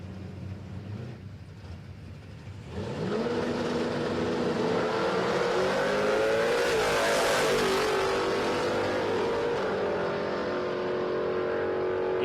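A 1938 and a 1934 drag race car launch down the strip at Palmyra Raceway, a quiet idle giving way to a loud, sustained engine roar whose pitch climbs steadily as they accelerate away.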